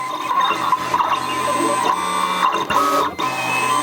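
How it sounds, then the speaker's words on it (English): A Siser Juliet vinyl cutting machine runs quietly with a steady mechanical hum and soft, repetitive whirring and clicking as the cutter moves back and forth. "You can actually hear just how quiet the machine is"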